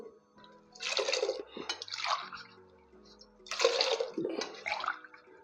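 Water is poured into a pot of pearl millet in two pairs of short splashing bursts, fairly close, with quiet pauses and faint background hum between them.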